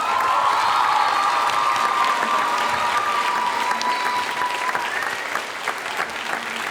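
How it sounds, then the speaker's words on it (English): Loud, sustained audience applause at a school spring arts festival, steady clapping for several seconds with scattered cheers, tapering slightly toward the end. "Can we give her a big round of applause?"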